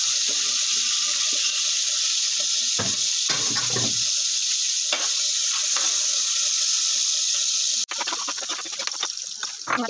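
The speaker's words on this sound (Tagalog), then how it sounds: "So, igisa na natin ang ating mga sangkap." Tomato, onion and garlic sauté in a pan, filling the clip with a loud, steady hiss broken by a few stirring scrapes, then a fresh burst of crackling partway through.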